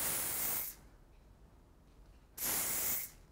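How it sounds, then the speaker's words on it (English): Light hold hairspray mists onto hair in two short, close hissing bursts separated by a quiet pause, heard alone without voices. "the last thing you're going to do to finish that off is a little bit of light hold hairspray"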